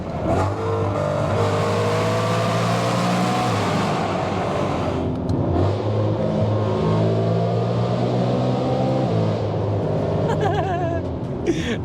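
A track-spec Volkswagen MK7 Golf R revs hard inside a road tunnel, with its engine note climbing and dropping through repeated gear changes, loud and booming with the windows down.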